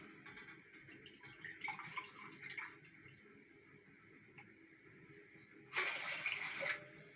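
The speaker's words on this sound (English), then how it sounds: "I'm going to put 2 glasses of water because I have 1 glass of rice" Water runs into a pot for boiling rice in a home kitchen, a soft steady splash that swells louder toward the end over a constant background hiss.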